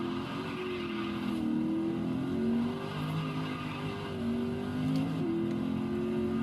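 Corvette GTLM race car in Forza Horizon 3, steady engine drone with gentle throttle changes during acceleration, moderately loud and continuous with no talking.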